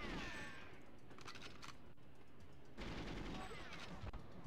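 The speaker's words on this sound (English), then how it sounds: "Somebody shooting at me." Rapid gunfire in the Goldeneye 64 train mission on Secret Agent difficulty, a dense steady burst of shots that fills the whole moment, briefly dipping before resuming loud and close.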